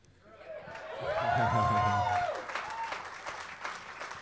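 Green Bay Packers fans at a live clubhouse event applaud and cheer. The clapping swells to a loud peak, then thins out, with a voice speaking over the crowd.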